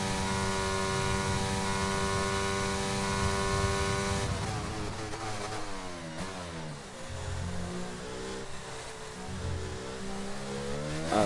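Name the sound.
McLaren race car engine on a lap, racing video game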